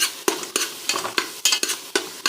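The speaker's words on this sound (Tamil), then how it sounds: "நல்லா வதக்கிட்டுக்கலாம்." Green chillies and tomatoes sautéing in a pan for egg biryani, with repeated spatula scrapes every half second over a steady crackling sizzle, close and alone.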